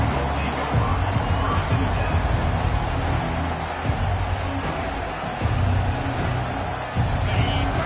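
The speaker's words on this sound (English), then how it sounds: "This crowd bringing an ear-splitting welcome to their visitors." A loud, steady roar from a football stadium crowd at an Oregon game, a dense wall of cheering that swells in waves and holds throughout with no gaps.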